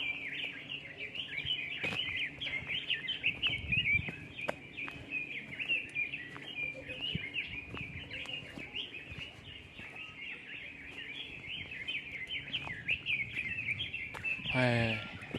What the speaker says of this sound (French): On entend plein d'oiseaux en plus.